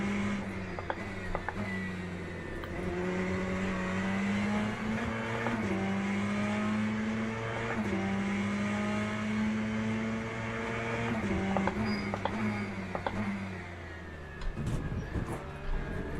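A GTE race car in Le Mans Ultimate howls past, its engine note holding a steady pitch and rising and dropping through gear changes, loud and sustained, then it fades near the end as other cars are heard.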